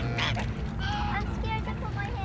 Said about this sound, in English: These are geese. Look at all these geese.